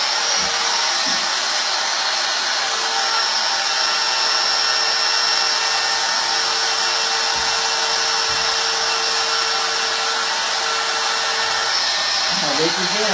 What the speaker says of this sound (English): I'm picking up on it so that the router bit leaves a sharp inside corner.